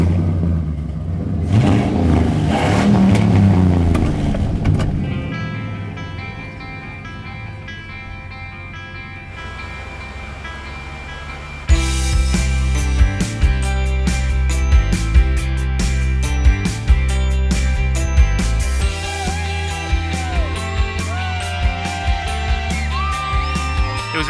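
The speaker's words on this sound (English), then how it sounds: "To have a frozen truck that'll actually start and run down the road, that's part of Canada." Canadian Tire's ice truck, a truck built from frozen ice, cranks and starts, then its engine rumbles and revs while driving down a wintry street, loud and close with clattering over the noise.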